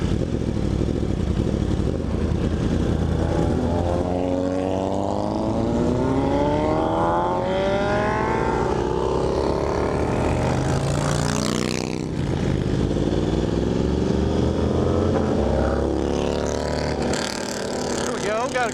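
Motorcycles on a group ride passing by one after another, engines rising and falling in pitch with sweeping Doppler flybys over a constant wind-buffeted rumble, with a rider talking over it.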